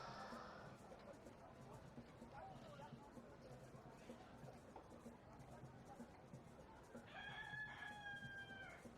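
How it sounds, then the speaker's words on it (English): A rooster crows in the background, a faint strained call near the end over low room noise during a tabletop role-playing session, with people talking. "That's a rooster."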